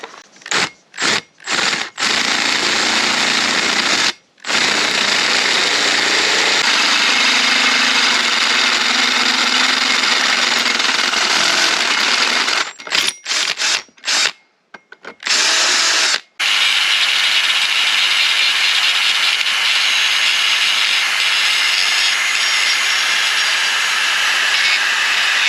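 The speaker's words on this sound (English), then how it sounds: "So the next thing I need to do is drill out this hole to allow the Dyneema to come through." A power drill bores out a hole in a boat keel with a loud, steady high whine, broken by short stops and restarts near the beginning and again around the middle.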